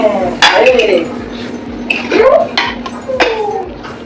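Metal clinks and clatter as a pressure cooker of cooked mutton is opened and handled, a few sharp pot-and-lid knocks spread across a few seconds under a voice.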